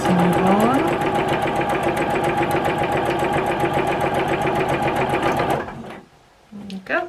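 A domestic sewing machine back stitching quilting fabric, running in a loud steady mechanical whir with rapid needle ticking close by, then stopping abruptly and followed by a few faint handling sounds.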